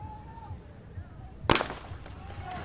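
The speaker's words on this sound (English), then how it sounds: "as we are ready for the gun" A starting gun fires once to open a boys' cross country championship race in San Diego, a sharp, loud crack standing out over steady crowd murmur and faint announcer talk.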